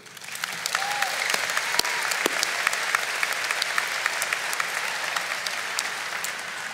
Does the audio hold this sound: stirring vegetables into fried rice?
no